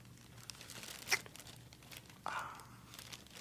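Close, soft plastic crinkling in two short bursts, a sharp rustle just past one second and a longer crackly swell later, over a quiet low hum.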